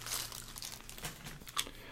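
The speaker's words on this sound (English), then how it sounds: "they're in this plastic bag that I will just rip open." Plastic bag holding acrylic, water-based paints being ripped open, a run of crisp crinkling and tearing bursts close up, ending in one sharp rip.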